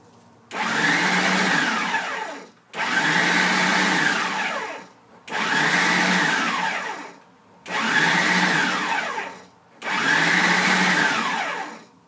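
A food processor mixing perogy dough in five loud bursts of whirring, each roughly two seconds long with brief pauses between, close and alone with no talk.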